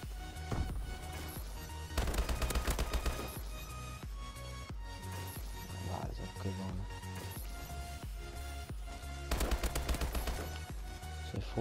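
Gunfire rattles in Call of Duty: Advanced Warfare during a Search and Destroy match, with rapid automatic bursts recurring through the stretch and the loudest volleys clustered near the start and end, set against game background sound.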